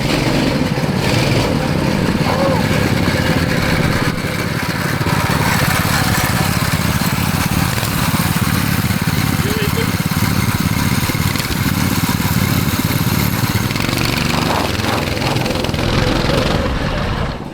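A bone-stock mini bike fitted with three engines runs loud and close, a dense and continuous raspy small-engine drone that holds steady throughout.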